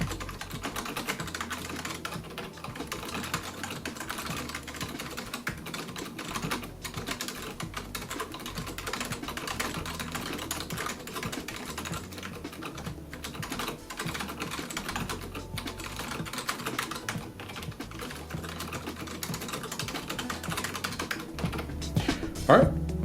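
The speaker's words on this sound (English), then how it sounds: "Alright, keyboard's hooked up. Let's give it a sound and tactile test." Continuous typing on a used Matias Mini Quiet Pro keyboard, soft muted keystrokes in a steady, fast patter at close range, running without pause for over twenty seconds.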